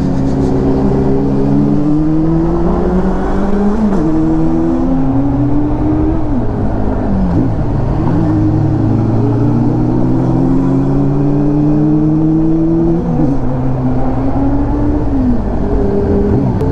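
A Honda CB400 Super Four inline-four motorcycle revving hard while overtaking, loud and close, its engine note climbing through rising pitch sweeps with gear changes, steady wind roar underneath and no talk.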